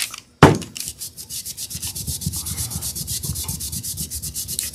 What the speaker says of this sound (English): I just want to make sure I get the wax completely buffed and rubbed in.